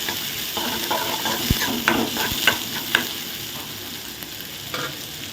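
Finely chopped onions fry in a pan for masala dosa filling with a continuous close sizzle, and a spoon knocks and scrapes against the metal several times. No voices are heard.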